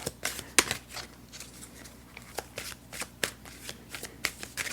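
Small tarot cards being shuffled by hand in a quiet room: a steady run of soft, close riffling flicks and light slaps with irregular rhythm, no voices.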